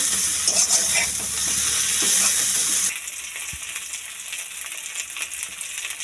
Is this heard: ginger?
yes